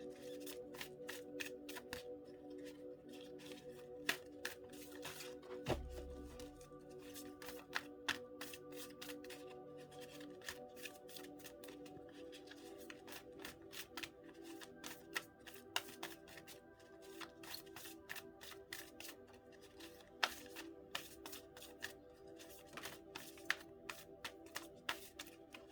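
Tarot cards shuffled steadily by hand, a dense run of crisp riffling snaps and slaps at close range continuing throughout, with one brief low thump near the start.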